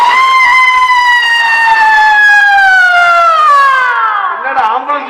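A voice imitates an ambulance siren, a loud sustained wail held for several seconds that slowly slides downward in pitch before breaking off, performed at a stage comedy show.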